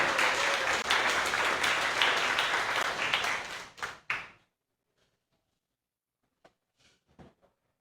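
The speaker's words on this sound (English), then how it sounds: "Round of applause, please." An audience at a storytelling night in Bremerton, Washington, gives a loud, dense round of applause that fades out after about four seconds, followed by a few faint scattered taps and shuffles in near silence.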